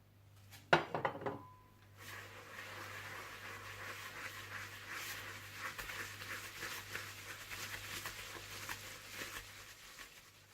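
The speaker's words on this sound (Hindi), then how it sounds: "और इसमें आप डाल दें चीनी और इसे अच्छी तरह से बीट कर लें" Butter and sugar being beaten in a bowl for a semolina syrup cake, a steady scraping and tapping of utensil against bowl that runs continuously after a few sharp clinks at the start.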